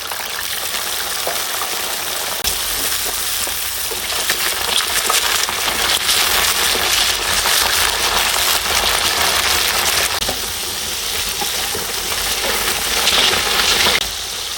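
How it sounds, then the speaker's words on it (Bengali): Okra drops into hot soybean oil in a pan and fries with a loud, steady, dense sizzle that runs without a break. No voice is heard over it. "তেল গরম হয়ে যাওয়ার পর আমি ভেন্ডিগুলো দিয়ে দিচ্ছি"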